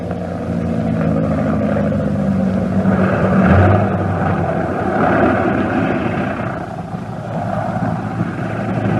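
Steady propeller-engine drone of a light aircraft on a solo transatlantic flight, a continuous loud hum with a brief swell midway, heard alone without voices.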